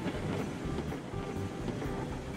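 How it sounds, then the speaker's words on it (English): A train in the video game Railroads Online runs along its rails, rumbling steadily with a repeating clickety-clack at moderate distance and no voices on top. "this train needs to go to right, the rest of the train has to go left"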